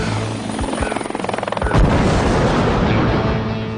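A loud helicopter thumps with rapid rotor chops during a military combat training exercise staging a helicopter crash, then a heavy boom hits and the roar turns into a dense, continuous rumble.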